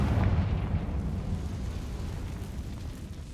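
A fiery blasting-spell explosion in a Harry Potter video game bursts at the start, then its low rumble decays and fades over a few seconds.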